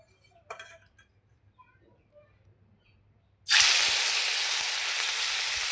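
Bata fish frying in hot oil, with a loud, sustained sizzle that bursts in suddenly after a few near-silent seconds of faint kitchen clatter, then holds steady and close.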